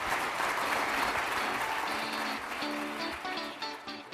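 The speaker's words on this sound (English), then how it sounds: "If we can have a nice round of applause for them real quick." A nice round of applause from an audience for esteemed panelists at the close of a podcast discussion on AEC company culture, dense steady clapping that tapers slightly, with faint voices underneath.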